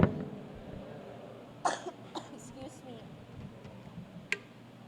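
Several short coughs from one person come in separate bursts at the start, then near the middle, with one last sharp cough near the end. The person has a slight cough and cold and is speaking at a church gathering, with a quiet room behind.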